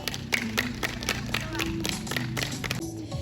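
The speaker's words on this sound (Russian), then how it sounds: "Под ваши аплодисменты." An audience claps along at a 2022 Youth Day concert in the village of Bolshoy Kashelak, with sharp, fairly rhythmic hand claps over music and some background voices.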